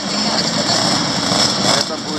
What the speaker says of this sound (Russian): А это турбовый